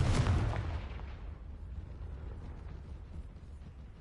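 A fiery Confringo blasting spell erupts in Hogwarts Legacy on PS5, opening with a loud, booming burst that slowly rolls off into a long, rumbling decay with no voices over it.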